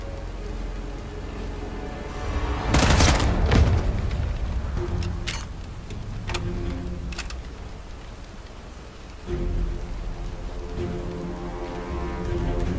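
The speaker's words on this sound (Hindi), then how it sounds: "तो यहाँ धमाका हुआ है।" Explosions and gunfire in the video game Sniper Elite 5: a loud blast bursts out near the start, followed by a few sharp cracks and a steady rumble of battle ambience, with a second swell of noise later.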